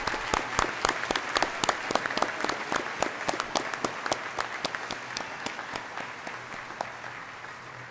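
Applause for doctoral graduates at a spring university graduation ceremony, a scattered, sparse clapping from the audience with distinct individual claps, steady and moderately distant throughout.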